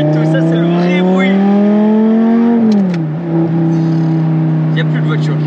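An Audi R8 V10 engine revs up with a loud, rising howl close by, then drops in pitch and settles back, while someone talks over it.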